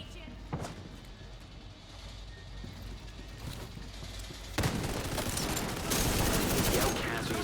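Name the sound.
gunfire in video game Tom Clancy's The Division 2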